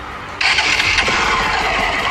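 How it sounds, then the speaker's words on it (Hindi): A motorcycle with a modified, changed exhaust starts up abruptly after a quiet moment, then settles into a loud, steady rumbling idle close by. "करते हैं बाइक को स्टार्ट"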